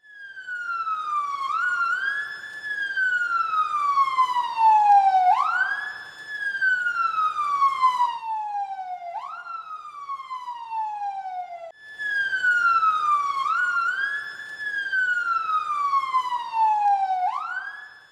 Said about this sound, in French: on met tout le temps les sirènes, la lumière avec les sirènes